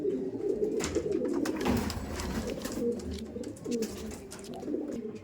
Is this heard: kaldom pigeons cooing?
yes